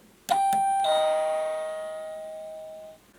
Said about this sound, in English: And then just below our mailbox, we have our doorbell.